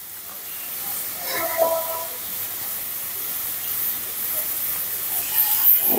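Ginger garlic paste sizzles in hot oil while pabda fish cooks, a steady close hiss with brief spatters throughout.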